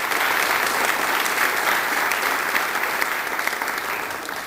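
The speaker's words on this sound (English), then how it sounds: "have everybody give them a round of applause for playing and accompanying these people." Sustained audience applause fills the hall at a community variety show, a dense, steady patter of many hands clapping that holds for several seconds and eases slightly toward the end.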